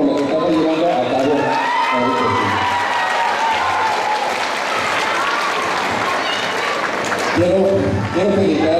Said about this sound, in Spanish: quiero un aplauso a todos ustedes